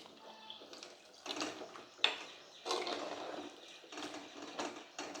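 Water splashes and pours in several short bursts into a cooking pot of sambar, close by and fairly quiet, with brief pauses between pours.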